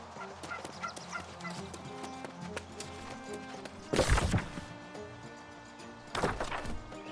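A turkey gobbles in a video game, a rapid rattling call heard twice as louder bursts over a busy game soundtrack and ambient noise.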